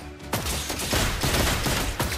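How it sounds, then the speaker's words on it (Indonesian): Rapid gunfire from the hero Granger in a Mobile Legends esports match, loud dense bursts of shots in quick succession amid busy game effects, with no talking. "Granger yang akan mencoba untuk membuka beberapa tembakan langsung"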